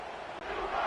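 A stadium crowd roars steadily in a college football video game as the teams line up for a kickoff in a bowl game between Central Michigan and the Wildcats, a dense, continuous cheer swelling slightly toward the end.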